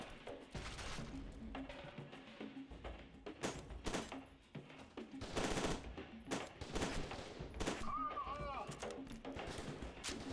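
Rapid, close video game gunfire with many sharp shots and bursts crackling over continuous battle noise, while a person talks over the shooting throughout.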